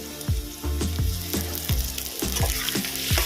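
Chopped onion and tomato frying in a pan with potato for a fig and prawn curry, a close, steady sizzle broken by rhythmic scraping stirs about every half second, no talking.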